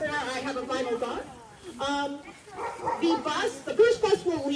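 Sled dogs at Denali National Park bark and yip in a lively, overlapping chorus, close by, with people talking among them.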